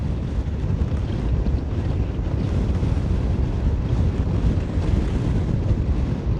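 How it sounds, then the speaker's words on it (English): A strong headwind roars across the microphone in a continuous, heavy rush of wind noise during a group cycling ride. The wind is loud and unbroken throughout, and no voices are heard. "Heavy headwind, folks, heavy headwind."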